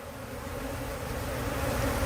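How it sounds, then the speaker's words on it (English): Honey bees buzz in a dense, steady drone at a hive, many insects humming together close by, growing slightly louder with no voices. "It's a lot of bees."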